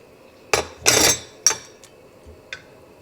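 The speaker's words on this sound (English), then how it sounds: "Stir it up." Spoon stirring collard greens in a metal pot, a few brief clinks and scraping knocks spread over a couple of seconds, close and moderately loud.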